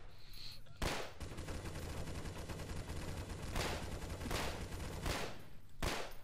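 Gunfire in the Garry's Mod Stalker game: loud sustained bursts of rapid automatic shots with several sharp, heavier cracks standing out, dense and continuous throughout.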